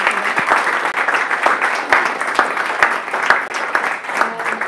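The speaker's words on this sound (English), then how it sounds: "Please give a round of applause to Florian" Audience applauding after an open lecture, a full, even roar of many hands clapping at once, fairly loud and sustained.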